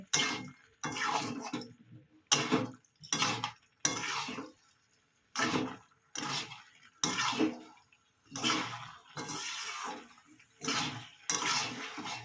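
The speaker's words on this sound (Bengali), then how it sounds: "এবার আমি ডাল দিয়ে চিংড়ি মাছ দিয়ে ভালো করে কষাবো" Jackfruit, prawns and chana dal being sautéed in a pan, with repeated bursts of scraping and stirring against the pan separated by short pauses, close and moderately loud, no talking.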